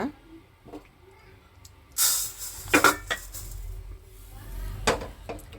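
Rice laddu mixture is moved onto a plate, with a few sharp metal clinks and scrapes of a utensil against cookware between quiet gaps.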